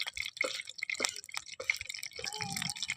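Water drips and trickles in small irregular splashes as strained boiled potatoes are pressed in a sieve in a kitchen.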